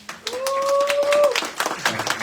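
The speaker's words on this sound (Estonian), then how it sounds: "teeme talle aplausi Inga." Applause at a book presentation, close hand clapping that builds quickly and continues through the clip, with a voice speaking over the start.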